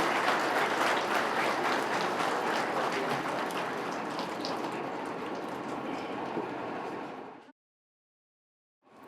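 A crowd applauds at the inauguration of a guest house and hall in Tura, Meghalaya, producing a thick, rain-like wash of close clapping that holds steady for about seven seconds before stopping abruptly.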